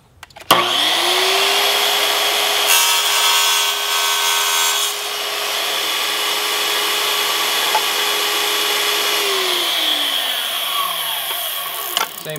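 A power saw cuts an inside miter in Schluter metal tile trim, spinning up after a click, then a steady loud grinding whine through the cut before winding down, alone without talk.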